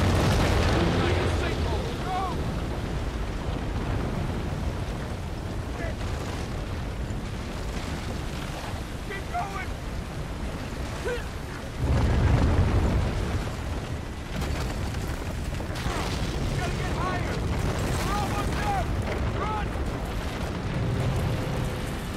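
Heavy explosions from explosive projectiles in Uncharted 3 roll through a loud, sustained rumble, with a stronger blast surging about halfway through and a voice talking over the din.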